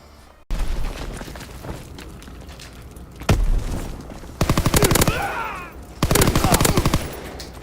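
PPSh submachine gun fire in the video game Call of Duty WW2, loud close bursts of rapid automatic shots with a single heavy boom between them, plus quieter in-game background noise and footsteps.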